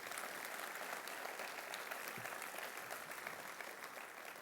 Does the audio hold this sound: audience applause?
yes